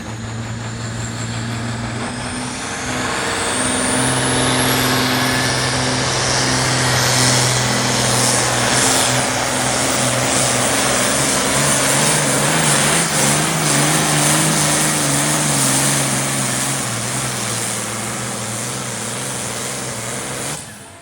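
At a Cass County truck and tractor pull, a pulling truck with a supercharged engine revs hard, its roar building from a rising whine into a loud, sustained blare lasting about twenty seconds before cutting off.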